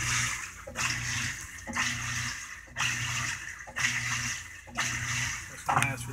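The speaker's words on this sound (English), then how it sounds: "Now we got the agitation going on." A Whirlpool washing machine agitates its water load, giving a steady churning and sloshing that surges and pauses in roughly one-second strokes, close and fairly loud, with no talk over it.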